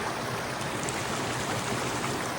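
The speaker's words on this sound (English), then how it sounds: "Just came to a little creek crossing here." A small forest creek flowing near little falls at a hiking-trail crossing in Kananaskis, Alberta, gives a steady, close rushing wash of water that never lets up.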